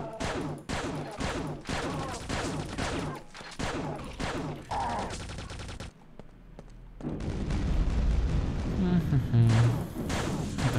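Weapons fire and explosions in Quake 2 with path-traced graphics: a rapid run of loud, punchy blasts, then a deep, sustained rumbling roar, with a voice talking intermittently.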